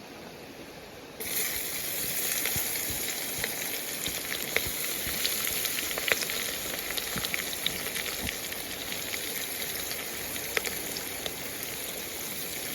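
Green chillies fry in a pan at a riverside camp, a steady hissing sizzle with scattered small pops and crackles, starting abruptly and continuing evenly.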